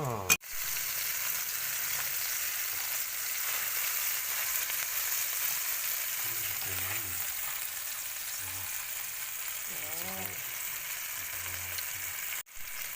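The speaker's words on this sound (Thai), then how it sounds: "อันดับแรกผัดเบคอนก่อนนะคะ" Bacon fries in a pan as the start of scrambled eggs, giving a steady, close sizzle throughout with a few faint stirring scrapes and knocks of utensils.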